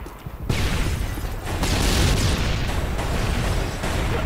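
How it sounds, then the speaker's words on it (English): Missiles explode over and over in Call of Duty MW3, a dense, loud roar of blasts and rumbling booms sustained across the whole stretch with no talk. "Is this person just spamming missiles?"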